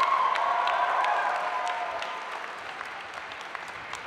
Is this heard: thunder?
no